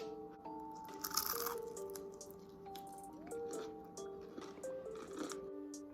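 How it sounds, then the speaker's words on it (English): Crispy fried oyster mushrooms crunch as they are bitten and chewed, producing several short, close crackling bursts over a steady background of tonal sound. "You hear that crunch?"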